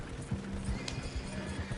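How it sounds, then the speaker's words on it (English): Horses gallop in the Red Dead video game, with steady rhythmic hoofbeats throughout and a brief whinny, close and moderately loud. "Horses won't go this fast for long."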